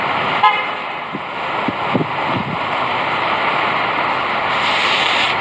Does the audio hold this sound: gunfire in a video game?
no